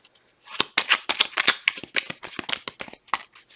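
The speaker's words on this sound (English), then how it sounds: "2 more shuffles." Tarot cards being shuffled close up, a quick run of crisp riffling slaps and flutters in a steady rhythm, with no voices.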